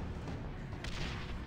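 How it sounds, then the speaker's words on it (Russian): Grenade blast in the video game Last Day Alive, heard as a brief, low rumbling boom amid constant muffled gunfire. "Дайте-ка я гранатой попробую воспользоваться, ребят."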